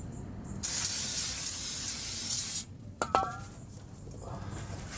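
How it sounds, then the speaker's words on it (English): Brake cleaner sprayed from an aerosol can onto a brake pad during a front disc brake job on a 2005 Saturn Ion, a steady loud hissing burst for about two seconds, then a brief metallic clink of the pad. "spray brake cleaner on it,"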